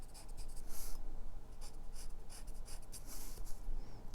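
Caran d'Ache colored pencil shading across paper in a coloring book, a soft continuous scratchy rasp with brief louder strokes, close and steady, with no talking.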